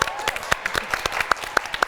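A studio audience at a television talk show claps in a short burst of scattered, uneven hand claps that stay close and moderately loud.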